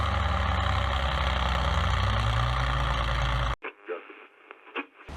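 A Tatra truck engine runs with a steady high cooling-turbine whine layered over its rumble, loud and close, before it cuts abruptly to near silence with a few faint knocks.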